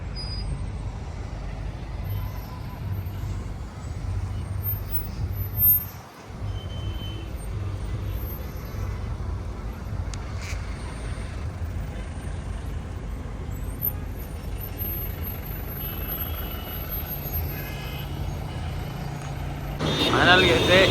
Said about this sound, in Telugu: ఇదంతా ట్రాఫిక్.